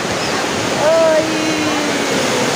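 Small ocean waves wash onto the beach at Cabo Frio in a continuous broad surf hiss, joined briefly by a high voice.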